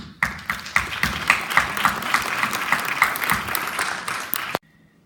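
An audience at a criminal justice panel in Illinois breaks into applause, a moderately sized crowd clapping steadily for several seconds before it cuts off abruptly.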